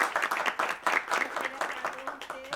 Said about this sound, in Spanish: Démosle otro aplauso porque realmente